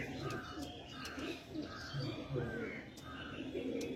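An adult female pigeon coos in soft, repeated low phrases, fairly faint, with faint chirps from other birds around.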